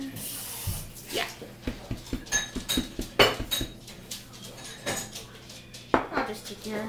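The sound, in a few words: dishes and plates being gathered up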